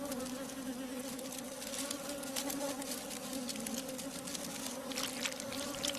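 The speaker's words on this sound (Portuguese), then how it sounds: "Durante os meses de verão, abelhas operárias produzem incansavelmente mel para a colmeia." Worker honeybees buzzing steadily in a close, continuous drone with a sustained hum, with no voices present.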